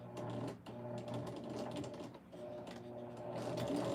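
A sewing machine stitches a zippered strip bag, running in a continuous close mechanical whir with rapid rhythmic needle pulses and a brief dip midway, with no voices.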